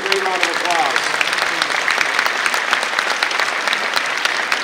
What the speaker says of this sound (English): Stand up and give him a great round of applause.